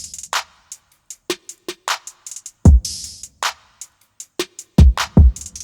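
Sparse hip-hop beat drums programmed in Studio One 5, with a two-hit accent snare, soft ghost notes, crisp hi-hats and punchy low kicks in a steady rhythm, dry and close.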